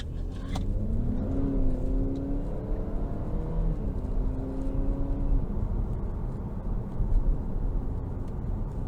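A 2022 Chevrolet Malibu Premier with a front-wheel-drive 2.0-litre turbo engine pulls hard from inside the cabin, its engine note rising steadily over a loud, constant road rumble.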